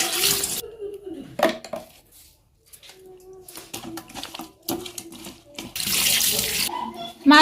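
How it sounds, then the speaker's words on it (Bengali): Fish rinsed under running water in a kitchen, with bursts of splashing and tap flow broken by pauses, plus clinks of dishes and utensils close by. "মাছ ধুয়ে নিব"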